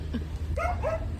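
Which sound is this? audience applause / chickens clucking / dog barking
dog barking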